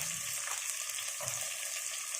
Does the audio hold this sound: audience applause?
no